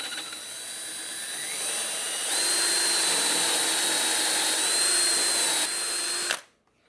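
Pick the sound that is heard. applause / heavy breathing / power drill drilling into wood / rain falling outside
power drill drilling into wood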